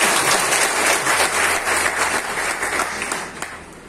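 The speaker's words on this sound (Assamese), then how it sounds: "ছাৰৰ কাৰণে এটা হাত চাপৰি লাগে" Audience applause in an indoor hall at a Mi Lifestyle business meeting in Jorhat, a steady dense wash of clapping that holds for about four seconds and fades slightly toward the end.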